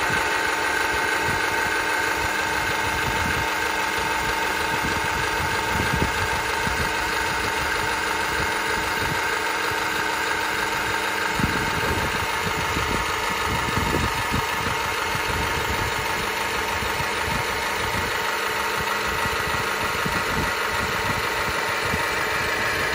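A 5-ton 12V ROGTZ electric car jack runs its motor to lower a car. The drone is steady and continuous, with a low mechanical rumble and a constant hum throughout, and no speech.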